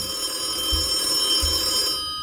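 A phone rings inside a horror video game with a steady electronic ringing tone and two low pulsing buzzes, fairly loud and with no speech, then it cuts off near the end.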